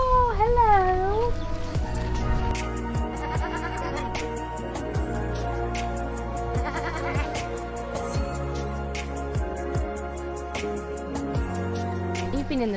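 Goats on a farm bleat repeatedly in wavering, nasal cries, close and loud, one after another with overlapping calls and background rustle.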